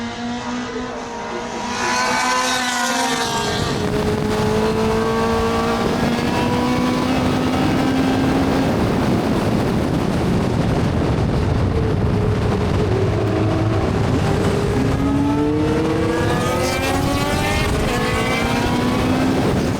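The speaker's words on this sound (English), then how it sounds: "engines as they get up to full speed through and clearways into Clark Curve to complete another lap" Historic Le Mans race cars with high-revving 9,000 RPM engines scream past at full speed through Clearways into Clark Curve, rising and falling pitch sweeps as several cars approach and pass, loud and continuous.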